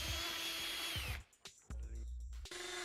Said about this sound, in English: Using your drill and 16mm auger bit, drill holes through the door for your handle spindle